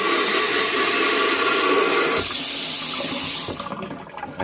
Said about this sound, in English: Turn the water on, use the sprayer.